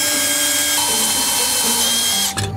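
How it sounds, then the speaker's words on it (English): A portable bandsaw grinds loudly against a motorcycle lock in a steady high-pitched whine, then quickly cuts out near the end. "He goes right to the portable bandsaw."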